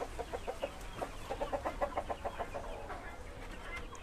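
Chickens clucking steadily at moderate distance, KUB hens and free-range village roosters in a poultry farm pen, soft repeated clucks with faint background talk.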